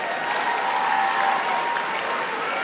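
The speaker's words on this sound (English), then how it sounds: "Would you join me in giving them one more round of applause?" A school assembly audience claps steadily and densely for several seconds, a full, even round of applause with no voices over it.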